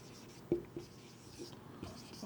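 Marker writing on a board during an accounting lesson, soft scratchy strokes in a few short bursts, faint and close, with quiet breathy voice sounds around them.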